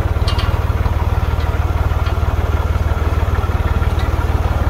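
A motorcycle engine idles on a bridge with a loud, steady, rapid low putter that keeps an even rhythm throughout.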